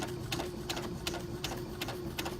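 A sewing machine fitted with an edge joining foot stitches a seam in a steady, even run of rapid mechanical clatter under a constant motor hum, close and moderately loud, with no talking.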